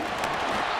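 A football stadium crowd roars during a third-down play, a dense, loud, sustained wall of cheering with no break in its short span.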